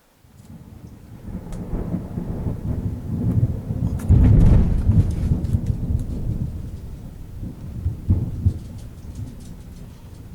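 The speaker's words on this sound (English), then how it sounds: "This is a crazy thunderstorm." Loud thunderstorm in March, with rumbling thunder swelling to a heavy crack around the middle and steady rain hissing throughout, no talking.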